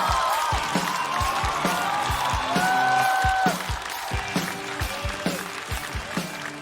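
A large studio audience at a stand-up comedy competition applauds and cheers to welcome a comedian, with loud sustained clapping and a host's voice and music over it.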